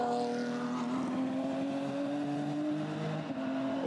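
A GT4 race car at Spa-Francorchamps pulls under power, its engine a steady, sustained drone with a smooth rising pitch, heard alone with no talking.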